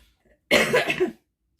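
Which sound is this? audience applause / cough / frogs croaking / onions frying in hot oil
cough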